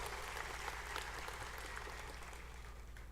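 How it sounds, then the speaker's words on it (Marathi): Rally crowd in Katol, Maharashtra, applauding to welcome Sharad Pawar, a dense, steady wash of clapping from many hands that holds at an even level throughout, with no voices standing out above it. "मी विनंती करतो टाळ्या वाजवून सगळ्यांनी त्यांचं त्या ठिकाणी स्वागत करा।"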